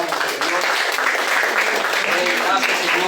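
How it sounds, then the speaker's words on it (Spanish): A church congregation applauding together, a dense burst of clapping that keeps up for a few seconds, with a voice speaking over it. "Bríndele un fuerte aplauso a nuestro Señor, nuestro Dios."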